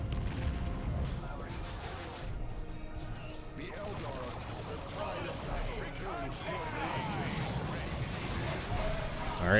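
A grenade bursts amid a Dawn of War II: Retribution Space Marines battle, with crashing impacts and booming explosions over steady combat noise while a voice talks over it.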